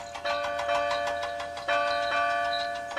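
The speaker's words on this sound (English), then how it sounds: "The bell chimed cheerfully as it was loaded onto Duncan's flatbed." A big bell chimes repeatedly in a cheerful, steady ringing pattern, its clear metallic tones sustained and overlapping at moderate loudness.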